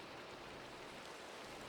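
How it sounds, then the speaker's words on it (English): Steady rain falls outside a house, a soft, even broadband hiss that continues without a break at a faint, low level, with no voices heard. "I mean, it's raining."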